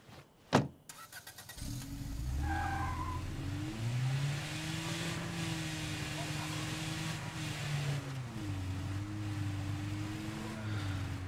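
A car in the zombie survival game State of Decay 2 starts up, then drives with a steady revving engine whose pitch rises and falls. The engine runs loud and close for about ten seconds after a sharp thump at the start.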